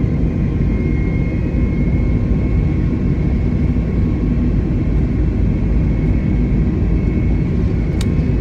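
Airbus A320neo engines spooling up for takeoff in Flight Simulator 2020, a loud, steady, close jet roar with low rumble and a faint whine, continuous with no talk.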